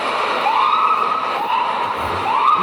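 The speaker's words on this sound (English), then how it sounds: "And an ambulance." An ambulance siren wails in a steady rising-and-falling cycle, loud and fairly close over a constant background of traffic hum.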